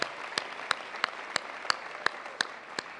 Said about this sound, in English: please, a special round of applause for Chris, as he really does an amazing job